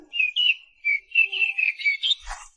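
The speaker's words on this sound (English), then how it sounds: "It's just a little bird." A small bird chirps in a quick series of bright, high tweets and short whistled notes, close and clear, with a brief soft rustle near the end.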